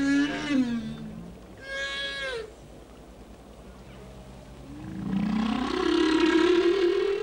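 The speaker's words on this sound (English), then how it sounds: "The song of the humpback whale is immensely powerful." Humpback whale song picked up by an underwater microphone: long, eerie rising and falling moans and higher wavering cries, with a quieter gap between phrases and a louder, swelling call at the end, with no voices.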